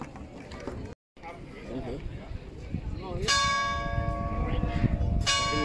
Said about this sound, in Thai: เสียงระฆังตี